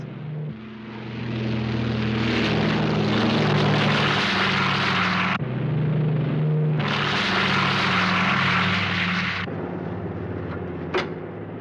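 A propeller airplane drones steadily in flight, a loud continuous engine hum with strong low harmonics that briefly dips twice before resuming, with no voices over it.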